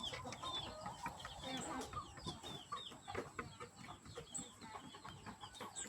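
Burmese gamecocks and laying hens on a farm cluck in scattered, overlapping calls at a moderate distance, with rustling and faint background noise throughout.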